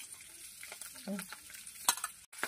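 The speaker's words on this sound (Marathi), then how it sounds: "तेल उडत म्हणून प्लेट झाकली त्याच्यावर" Hot oil spattering as green chillies and curry leaves fry under a covering plate: a soft, continuous crackle with brief stirring scrapes and a sharp pop near the end, close and quiet.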